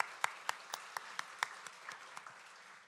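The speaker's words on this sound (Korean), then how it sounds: "우리 환영의 박수 하도록 하겠습니다" A church congregation claps to welcome a new member, a soft, scattered round of applause with distinct individual claps heard at a distance, fading out after a few seconds.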